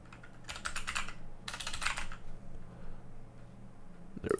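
Computer keyboard typing and mouse clicking in two quick bursts of rapid, close clatter, then quieter scattered keystrokes over faint room hum, ending with one sharp click.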